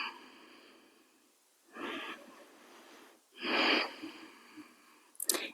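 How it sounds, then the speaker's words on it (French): Deep breaths taken while holding a yoga standing forward bend, Uttanasana, two or three audible airy inhales and exhales spaced a few seconds apart, close and fairly soft, with a brief sharper sniff near the end. "Et on prend une respiration ici."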